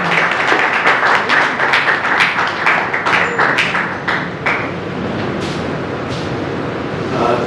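An audience at a book launch event applauding to welcome a speaker, a dense burst of many hands clapping that thins and fades after about four seconds into a softer room murmur.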